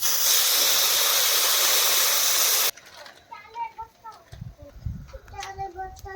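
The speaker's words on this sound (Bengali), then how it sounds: "এবার আগে থেকে গরম করে রাখা জলটা দিয়ে দিচ্ছি" Loud steady hiss and sizzle as pre-heated water is poured onto rice fried in a pot for basanti pulao, cutting off abruptly, followed by quieter clinks and bubbling with talking.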